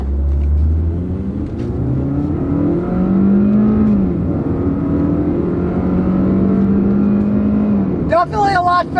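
Economy car with an automatic gearbox in manual mode, held in first gear, accelerating hard: loud, steady engine drone rising in pitch for about eight seconds, then a brief break as the revs cut at the end.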